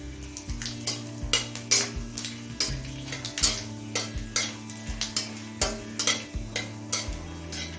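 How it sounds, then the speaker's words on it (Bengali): Bay leaves, dried red chillies and whole cumin seeds spit and crackle in oil heated on a high flame, with a continuous close sizzle and regular scraping clinks of a utensil against the pan. "এবার ফোড়নে দিচ্ছি দুটো তেজপাতা দুটো শুকনো লঙ্কা হাফ চামচ গোটা জিরে"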